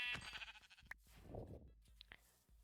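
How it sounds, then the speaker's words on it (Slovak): Sheep bleating on a Minecraft server, a few short game bleats close by over a low background of movement and clicks. "tu sú ovce 3"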